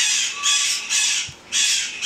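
A young pet bird held in a glove gives three loud, harsh squawks in close succession, near and alone.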